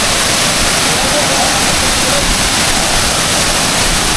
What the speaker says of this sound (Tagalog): Malakas na rin yung tubig